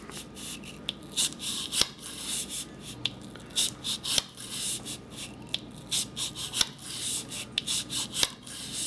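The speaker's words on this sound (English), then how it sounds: "now that I've actually ran the bristle brush and the cleaning solution through the barrel" Bristle brush scrubbing back and forth through the barrel of a Ruger Blackhawk .357 revolver with cleaning solution, a steady close rasping rub with repeated strokes and occasional sharp clicks, no talking.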